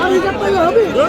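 Dense crowd chatter at a busy cattle market in Ambari Hat, Dinajpur, many close voices overlapping in a continuous babble.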